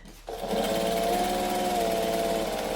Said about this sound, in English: I can actually just sew up the side